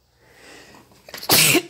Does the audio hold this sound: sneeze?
yes